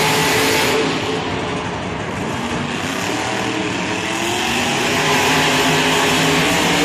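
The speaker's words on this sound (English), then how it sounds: "It's Carl Van Horn and Gravedigger and Ryan Anderson and Son of a Digger" Monster trucks Grave Digger and Son of a Digger roar through a Monster Jam race in San Diego, a continuous loud wash of engine noise and crowd din from a distance in a stadium.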